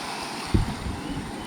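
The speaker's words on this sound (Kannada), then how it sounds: "ಆ ಅಲೆಗಳ ಸದ್ದು" Sea waves at a quiet beach in south Goa, a brief soft wash of surf with faint wind noise on the microphone.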